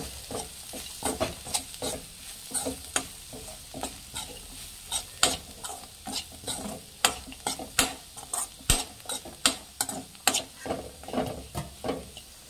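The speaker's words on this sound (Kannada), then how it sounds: "ಇದನ್ನು ಹಾಕಿ ಚೆನ್ನಾಗಿ ಕೈ ಆಡಬೇಕು" Cumin and fenugreek powder being stirred into a sizzling cooking mixture for an Ugadi festival dish, a steady series of scraping spoon strokes against the pan over a constant frying hiss.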